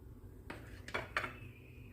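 Utensils clink against a dish while grape leaf borani is stirred with fresh greens, a few short scraping knocks spaced apart, close by over a quiet room.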